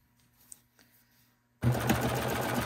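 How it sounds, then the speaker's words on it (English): A serger sewing machine with worn needles starts up after a quiet pause with a few faint clicks, then runs loudly and steadily with a rapid mechanical thumping chatter. "I also need to change the needles on my serger. They're making the thumping noise."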